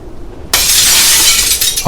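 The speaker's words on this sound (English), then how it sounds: "A branch flew through one of the windows in the cabin, throwing glass everywhere and waking up everyone." A cabin window shattering as a branch crashes through it: a loud, sudden burst of breaking glass after a brief quiet, followed by a sustained spray of falling shards and tinkling debris.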